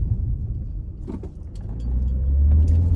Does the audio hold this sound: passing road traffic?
yes